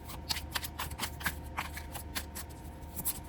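Tarot cards from the Forager's Daughter deck are shuffled by hand, giving a close run of quick papery riffles and slaps in an uneven rhythm.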